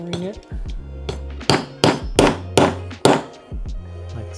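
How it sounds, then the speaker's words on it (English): Metal tool hammered into a leather Cloud Strife harness, several sharp strikes in an uneven run, loud and close, with some quieter taps and handling noise between them. "Let's start hammering it"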